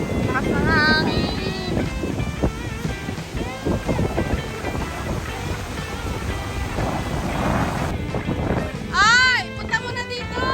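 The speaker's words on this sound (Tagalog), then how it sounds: "Lakas ng hangin." Strong wind gusts buffet a beach resort shoreline alongside rolling surf, a steady roar across the whole stretch with people talking and calling out over it.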